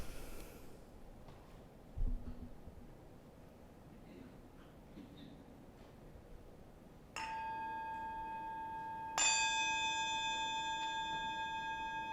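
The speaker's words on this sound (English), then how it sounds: "As we follow the sound of the bell into silence, we allow ourselves to arrive here fully." A bell is rung during a Unitarian Sunday service: after a quiet, hushed room, one clear struck tone rings out, then a second, louder strike sustains its shimmering ring into silence.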